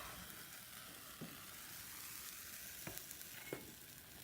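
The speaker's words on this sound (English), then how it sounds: "the heat of the dish will evaporate the last of the liquid to leave our crystals there" Last liquid sizzling and hissing away in a hot evaporating dish as crystals form, a steady faint crackling fizz with a few small pops, heard alone without talk.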